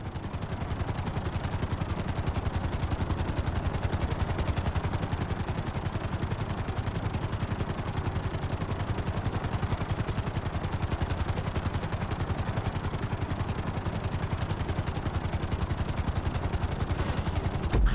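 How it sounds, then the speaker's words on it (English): Helicopter touching down on a helipad in Grand Theft Auto 5, a steady loud rotor chop with dense rapid clatter running unbroken throughout, heard alone with no talking. "Bring the helicopter down gently onto the helipad."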